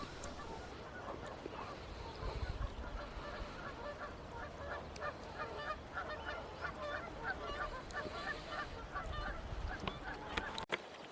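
Geese honking around an island campsite at night, repeated overlapping calls at a moderate distance over a steady background hiss.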